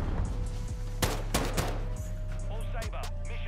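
Kastov 74U rifle fire in Modern Warfare 2, several sharp shots in a short burst over constant game background noise.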